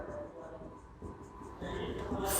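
Chalk or marker writing on a board in a classroom during a logic lesson, faint scratchy strokes in short bursts close by with a quiet background.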